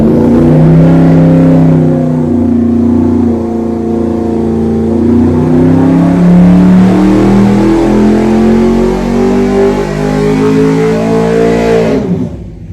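A V8 car engine revs loudly and continuously, its pitch sweeping up and down through repeated throttle blips, close by with no talking.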